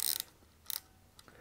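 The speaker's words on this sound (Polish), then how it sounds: "migawka i naciąg filmu jest jednocześnie blokadą" Futura rangefinder film camera working its shutter and film advance: a few quiet, crisp mechanical clicks and ratcheting snaps, spaced apart, close up and alone.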